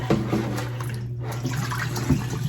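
Cold running water splashes and sloshes as raw oxtail pieces are washed by hand in a bowl, with bursts of splashing over a steady low hum.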